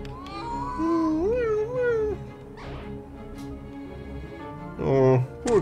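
A cartoon cat meows in the video game A Space for the Unbound, plaintive rising and falling cries over a soft music bed, with a short louder burst near the end.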